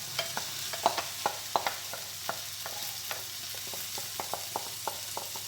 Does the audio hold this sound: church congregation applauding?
no